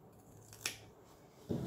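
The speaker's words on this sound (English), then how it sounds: "take this edge and snip it so when you turn around, it's not bulky in this corner" Two quick scissor snips cut into the corner edge of sewn fabric for a lumbar pillow, crisp and close, the first sharp and the second a moment later, alone in a quiet room.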